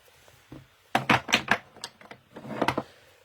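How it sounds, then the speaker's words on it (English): Wooden stamping blocks rattling and clacking together on a craft table, a quick burst of several sharp knocks followed by a second short cluster, close and fairly loud. "sorry, my noisy rattly blocks"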